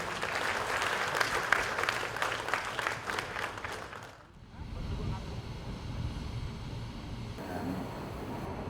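Crowd at an inauguration of geothermal power plant infrastructure clapping for about four seconds, fairly faint and outdoors, then giving way to wind rumble and open-air noise.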